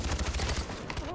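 Rapid automatic gunfire from the shooter game Far Cry 4 bursts close and loud in quick repeated shots over about a second, with a voice speaking alongside.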